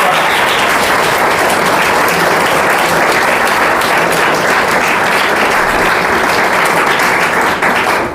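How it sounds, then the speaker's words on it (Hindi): Loud, dense applause from an audience at a 12th-class farewell ceremony, steady and unbroken for about eight seconds, many hands clapping close and full. "इनके लिए एक बार जोरदार ताली से आप लोग"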